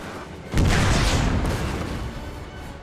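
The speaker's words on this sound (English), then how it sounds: "Fire the cannon!" A single loud cannon blast booms out in Napoleon: Total War, then its heavy rumble and crackle trail off over the next couple of seconds.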